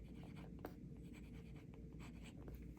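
A Lamy Safari with a 14k gold fine nib writes on thin Tomoe River paper in Cross blue-black ink, giving a faint, steady, close scratch with small bursts as strokes begin and end.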